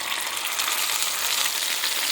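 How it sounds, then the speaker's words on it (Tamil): Hot curry leaf tempering poured into a tamarind mixture for garlic pickle gives a loud, steady, close sizzle that holds without a break, with no talking. "கறிவேப்பிலை போட்டு தாளிச்சதை இதில் போடுறேன்."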